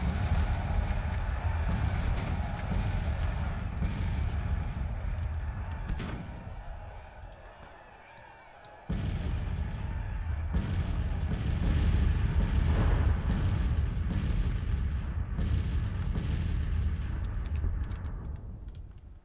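Artillery fires in the Civil War strategy video game Grand Tactician: the Civil War, with repeated booming shots and rumbling volleys over a continuous battle din, and a brief lull midway.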